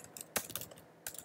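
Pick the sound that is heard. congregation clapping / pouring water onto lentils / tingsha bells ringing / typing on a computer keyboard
typing on a computer keyboard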